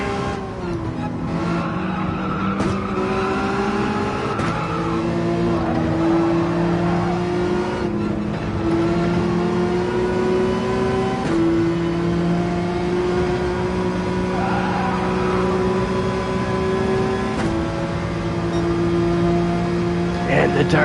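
Race cars in Gran Turismo 7 roar together in a dense pack, engines droning and shifting pitch with repeated gear changes, loud and continuous under a commentator's voice.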